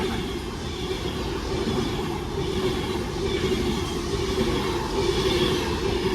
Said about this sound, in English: it's a passing Avanti West Coast service on Divert